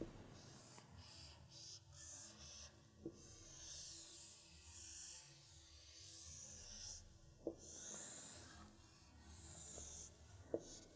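A pencil sketches a picture of the large spine muscles by hand on paper, soft scratchy strokes and rubbing in uneven bursts with a few light taps, quiet and close, no talking.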